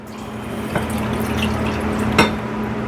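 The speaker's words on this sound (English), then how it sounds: "pour the 2/3 cup of water" Water from a measuring cup poured into a clear bowl for microwave instant mashed potatoes, a soft continuous liquid splash with a couple of faint clinks, close and alone.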